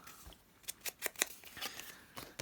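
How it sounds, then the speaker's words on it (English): Scissors snip through paper scraps in a quiet room, about ten crisp, close cuts coming in an uneven rhythm, some in quick pairs. "Just get your scraps out, cut and rip them up"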